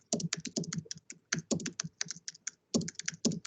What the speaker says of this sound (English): I'm typing in a message that someone has sent to me.